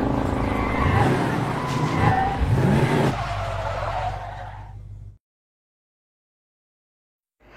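A car driven hard around an airport tarmac in an action film, engine roaring with tire skids and squeals for about five seconds before cutting abruptly to silence.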